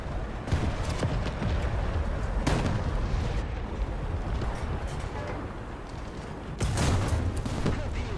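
Heavy cannon blasts from a Sturmhaubitze 42 in a video game boom out, with a loud shot near the start, another around two and a half seconds, and a strong one near the end over rumbling battle noise.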